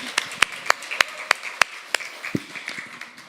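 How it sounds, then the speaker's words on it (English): A few sparse, sharp claps from a small audience at a UX design evening, irregular single hits spread across a few seconds, fairly close and light rather than a full ovation. "A round of applause for Povilas' shoes."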